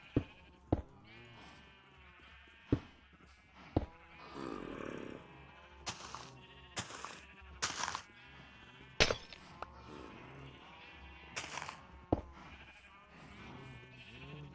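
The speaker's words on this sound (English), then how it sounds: "we're going to use our lead to drag our sheep over" Several sheep in Minecraft bleat at scattered intervals, clear and nearby, mixed with sharp clicking and clinking sounds.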